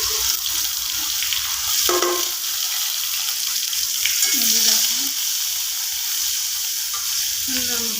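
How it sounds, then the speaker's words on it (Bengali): Green chilies and onions frying in oil in a wok give a loud, continuous sizzle up close, with occasional clinks and scrapes from stirring. "এখন আমি এই মরিচ পেঁয়াজ ভেজে নিব।"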